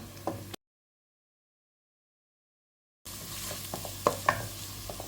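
Crushed spices and ingredients hit a hot pan for Kerala-style homemade rasam, giving a short sizzle and stirring scrape after a silent gap, with a few sharp clinks near the end.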